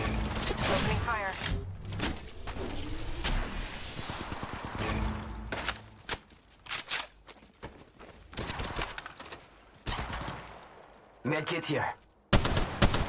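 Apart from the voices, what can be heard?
gunfire from the video game Apex Legends Mobile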